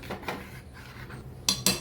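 A spoon clinks and scrapes against a metal pot of boiling milk with sago and sweet potato kheer a few times, faint at first and then two sharper knocks near the end.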